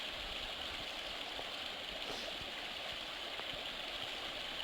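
Mountain stream rushing over rocks at a trail water crossing on the Colorado Trail, a steady broad watery hiss, faint and continuous.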